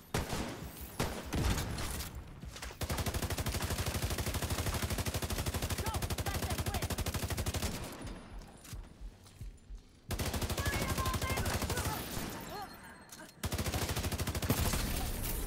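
Sustained gunfire in Tom Clancy's The Division: dense rapid volleys run for several seconds, break off, then return in two more long loud bursts, with brief quieter gaps between them.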